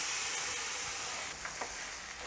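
Spinach paste sizzling and frying in a hot pan while cooking spinach-corn dal khichdi, a steady close hiss with a few brief stirring scrapes.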